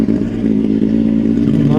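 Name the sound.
Kawasaki Z900 motorcycle engine sound, 2019 limited edition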